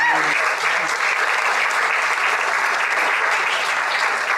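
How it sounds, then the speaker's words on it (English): Steady, loud applause from an audience at a launch event greets a woman coming onto the stage, a dense continuous patter holding at even strength throughout. "let's all give her a welcome and some applause"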